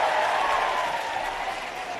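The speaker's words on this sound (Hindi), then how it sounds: "हम सभी जोरदार तालियों के साथ माननीय बहन जी का स्वागत" A crowd applauding to welcome Mayawati at a Lok Sabha election rally in Muhammadabad, Mau, Uttar Pradesh, heard as a steady, fairly loud wash of clapping throughout.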